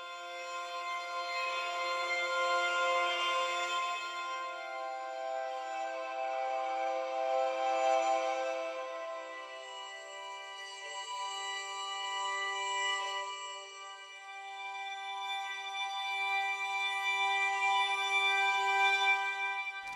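Sustained, shimmering harmonic layer from a Dolby Atmos music mix: stacked bright tones hold steady and swell gently over twenty seconds, with no voices.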